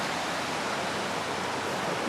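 Rushing river water pouring through a ravine that was normally a calm little creek, a dense, steady broadband roar at close range with no breaks or voices.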